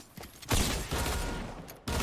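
Bursts of gunfire in the Fortnite battle royale game, several loud close volleys separated by short pauses, with no one speaking.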